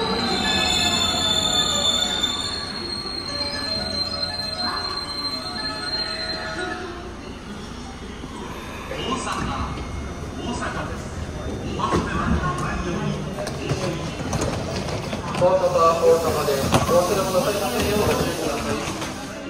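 A Haruka limited express train pulls into platform 24 at a new Osaka Umekita station, rumbling and hissing with squealing wheels that swell toward the end, while an announcement plays over it.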